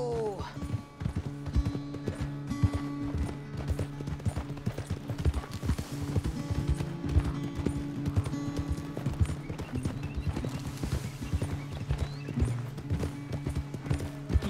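Horse hooves galloping in Red Dead Redemption 2, a fast, steady clip-clop that is close and loud and runs without a break, with a low tonal hum beneath it.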